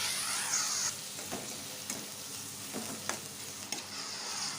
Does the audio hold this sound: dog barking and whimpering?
no